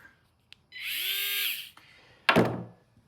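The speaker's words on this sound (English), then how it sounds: "My Craftsman electric screwdriver. It's electric." A Craftsman electric screwdriver whirs up to a steady motor whine for about a second, then spins down, followed a moment later by a sharp clunk.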